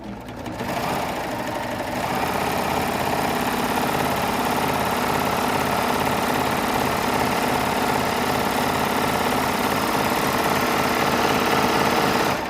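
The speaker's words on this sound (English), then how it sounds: "I'm just going to do some stitching" A sewing machine stitches with decorative thread at relaxed tension, running steadily and continuously at close range with a fast, even mechanical rhythm, and no one speaks.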